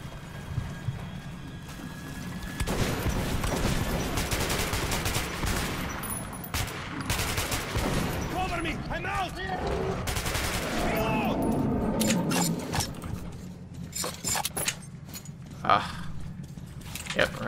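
Gunfire in the post-apocalyptic shooter Metro 2033 Redux: volleys of shots and crackling bursts of varying density, with someone talking over much of the fighting.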